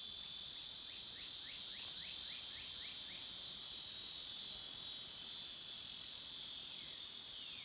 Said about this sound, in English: Can you hear all the cicadas?